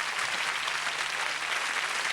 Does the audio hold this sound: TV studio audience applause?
yes